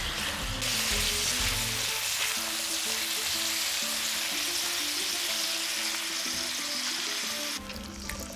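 Salted pasta sauce for pasta allo scarpariello sizzles and simmers steadily in a pan, a continuous close frying hiss with faint clinks, alone without talk.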